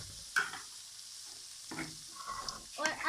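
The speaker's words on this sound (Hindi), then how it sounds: "अब हम इसे भूनेंगे और इसे अच्छी तरह फ्राई करेंगे।" Peas, carrots and potatoes fry in a pan with a soft, steady sizzle, broken by a few stirring scrapes and clatters; fairly quiet and close, with no talking.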